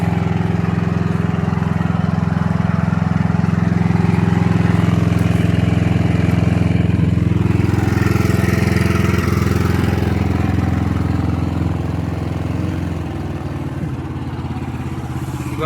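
A Scheppach EXC815 mini excavator's petrol engine runs steadily at a close, loud idle, clattering continuously before easing slightly lower toward the end, with no talk over it.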